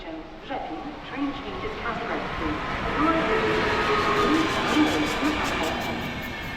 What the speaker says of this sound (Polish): Wjeżdża ekspres Intercity Berlin, Warszawa Ekspres.